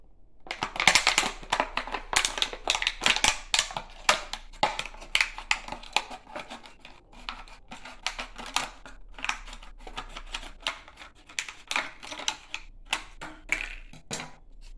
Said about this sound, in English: You can cut it with a scissor.